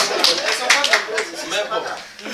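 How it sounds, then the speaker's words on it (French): An audience at a university gathering in Labé claps, brisk scattered applause with a few chuckles, heard under and around someone talking. "Mais les filles applaudissaient, non?"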